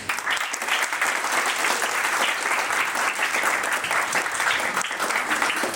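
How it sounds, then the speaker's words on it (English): Steady, dense applause from a large crowd, many hands clapping continuously at an even level throughout. "Give a clap for that man."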